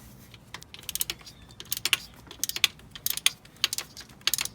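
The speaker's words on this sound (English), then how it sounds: "So you want to get your 14 ratchet." Rapid ratchet clicking while a 14 mm ratchet snugs a starter bolt on a 2004–2007 Toyota Corolla, bursts of fine close ticking in uneven strokes, fairly quiet with no speech.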